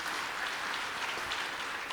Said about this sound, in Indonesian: Yang percaya kasih tepuk tangan buat Tuhan